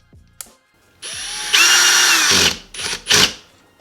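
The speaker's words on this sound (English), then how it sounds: "I'm going to actually use a drill." A power drill on its softest setting whirs in short loud bursts, speeding up and stopping several times, with a ratcheting whine as it drives bolts on a GSXR 600 stunt motorcycle close by.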